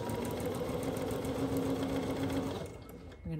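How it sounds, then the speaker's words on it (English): A sewing machine runs steadily while sewing a quilt panel and taking a small back stitch, a loud even whirring hum that slows and stops near the end. "I think I am gonna take one little back stitch"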